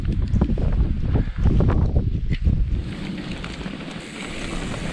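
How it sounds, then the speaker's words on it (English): Strong wind buffets the microphone on an exposed, sunny hilltop above the Innerleithen mountain bike trails, a loud continuous roar with gusts that eases slightly after a few seconds. "It's also pretty exposed and windy up top."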